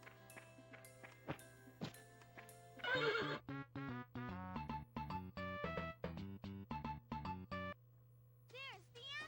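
A horse whinnies loudly and close in the PS1 game Dora the Explorer: Barnyard Buddies, followed by a run of rhythmic clip-clopping hooves over steady game music, with brief cartoon voices.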